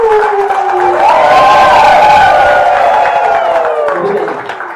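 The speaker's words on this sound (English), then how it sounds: "give yourself a round of applause" An audience of women at a maritime event in Kisumu cheers and shouts, a loud swelling crowd roar with whoops and high voices, cresting midway then tapering off.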